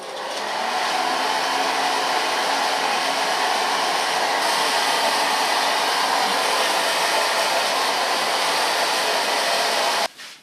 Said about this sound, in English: It's a wet version, so I blow dry it a little bit, no totally dry, but a little bit less moist in the hair.